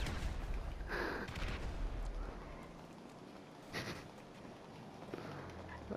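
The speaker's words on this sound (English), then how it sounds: "Grenade launcher!" Grenade launcher fire in a video game, a few heavy thumping shots and booming impacts near and mid-distance over continuous game noise, with no talk.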